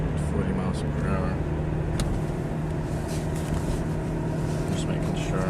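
A car drives uphill at about 40 miles per hour, its cabin shaking, giving a steady close rumble of engine and road noise that runs unbroken throughout.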